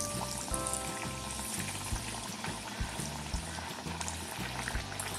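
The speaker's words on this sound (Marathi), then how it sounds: "हे आपण एक एक वडी आता सोडून घेऊया" Alu vadi pieces deep fry in hot oil, a dense bubbling, boiling sizzle that runs close and continuous, with a low rhythmic hum beneath and no talking.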